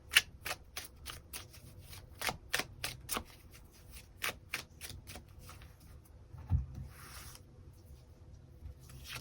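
Tarot cards shuffled and dealt, a steady run of sharp riffling flicks and snaps up close, then softer sliding and handling sounds, with no talking.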